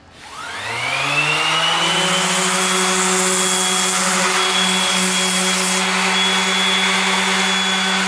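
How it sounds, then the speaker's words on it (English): Power sander with 40 grit sandpaper spinning up and running steadily on a surfboard tail ding, a loud continuous whine and hum close to the microphone. "So I still got the 40 grit sandpaper on there, which I'm going to go very lightly with"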